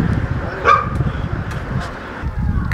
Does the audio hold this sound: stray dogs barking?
yes